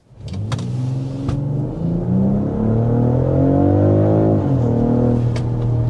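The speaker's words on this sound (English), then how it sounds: "There we are with a quick little jolt of acceleration in this X3 M50." A BMW X3 M50 accelerating hard, its engine note climbing steadily in pitch through a gear before a brief shift dip, loud and close from inside the cabin.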